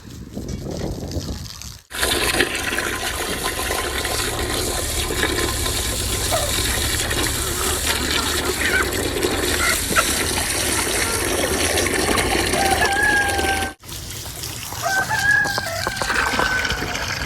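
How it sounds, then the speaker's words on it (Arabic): Water gushing from a tap through a hose into a container, a loud continuous rushing stream with a brief break, faint chickens audible nearby. "فهناخد بقى المية دي بالخرطوم"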